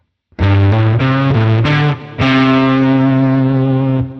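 A distorted electric guitar plays a short lick of a few quick notes, then holds a long sustained note with a chorus-like shimmer, loud and up front.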